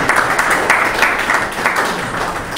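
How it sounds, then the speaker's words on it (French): Sustained audience applause at a book signing ceremony for a philosophy book, dense steady clapping from a crowd filling the whole stretch without pause. "Applaudissons encore pour l'écrivain aujourd'hui."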